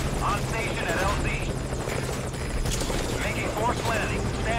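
Military extraction helicopter in the video game Metal Gear Solid V: Ground Zeroes, rotor thrumming steadily and close throughout, with radio-style voices talking over it.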